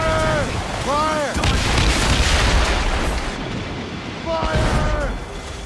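Naval cannon fire during a ship battle in the video game Assassin's Creed Rogue, heavy booming blasts over a dense roar of battle noise, with shouted voices cutting in at the start and end.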